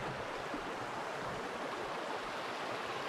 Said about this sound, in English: Stream, creek.